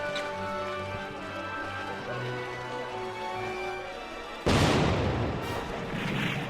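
A sudden loud burst of sharp, booming gunfire breaks in partway through, following a steady humming, droning background.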